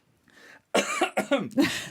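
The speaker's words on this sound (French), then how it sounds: "pourquoi tu tousses ?" A short burst of harsh, close coughing, three or four hacks in quick succession after a brief faint sound.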